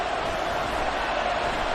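Stadium crowd at Arrowhead in Madden 24 roaring in full voice, a dense, steady wash of cheering that holds at a constant loud level throughout.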